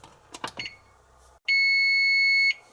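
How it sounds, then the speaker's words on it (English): A kitchen timer being set for an hour beside copper being forced to patina with salt and vinegar gives a few quick short button beeps, then one loud steady electronic tone lasting about a second. "I'll go ahead and set this timer up here for an hour."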